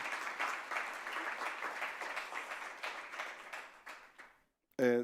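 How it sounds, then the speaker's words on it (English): Applause from the audience closes the first session of an education summit, a steady, fairly faint wash of clapping lasting about four seconds before fading out, followed by a brief burst of sound at the end. "let's give a round of applause"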